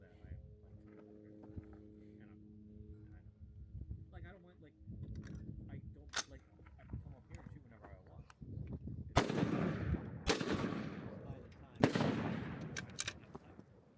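Rifle shots at a 600-yard match stage, several sharp loud cracks fired in quick succession near the end, following a stretch of talk with someone speaking close by.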